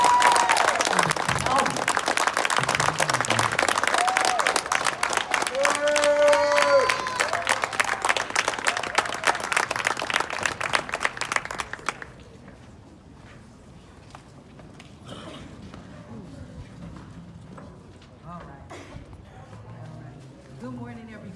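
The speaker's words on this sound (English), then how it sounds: "can we have a round of applause to the first" A crowd at a San Diego community gathering applauds loudly and steadily for about twelve seconds, then the clapping drops away to a quieter room with scattered noises.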